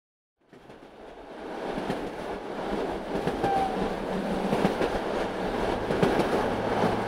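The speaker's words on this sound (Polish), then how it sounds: "na zaśnieżone perony Auschwitz-Birkenau wtoczyła się lokomotywa, która wyruszyła z Westerborku 36 godzin wcześniej" A locomotive pulls freight wagons along a rail line in snowy winter conditions. The rumble fades in from silence and builds into a steady, loud rolling roar with faint clatter of wheels.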